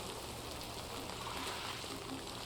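Rain in the video game Death Stranding 2: On the Beach comes through as a soft, steady hiss of falling drops, faint and even throughout.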